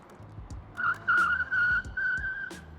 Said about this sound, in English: You can hear the scooter definitely just wanted to go even faster.